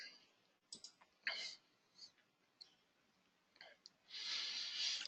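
Someone clicks a computer mouse several times in a quiet room. The clicks are sharp, soft and close, spaced irregularly, and a longer breathy rustle follows at the end.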